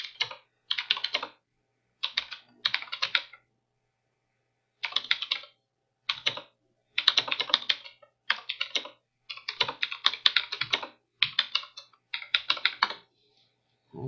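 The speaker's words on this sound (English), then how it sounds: "I'm just typing in a search for the book." Fingers type on a computer keyboard in quick clattering bursts separated by short pauses, close and fairly quiet, with no talking.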